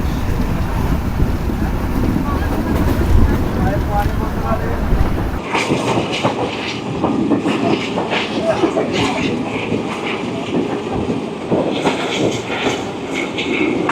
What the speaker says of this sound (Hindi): किलोमीटर प्रति घंटे की रफ्तार से ZCU दौड़ा रहा है रावल एक्सप्रेस को।